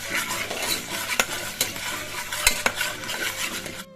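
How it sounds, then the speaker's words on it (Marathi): Ginger garlic paste is stirred in hot oil for a spicy mutton dish, with a spoon scraping and clinking against the pan over a continuous loud sizzle, close by and without speech. "आता आपण असं हलवून घ्यायचं आपल्या तेलामध्ये प्रॉपर"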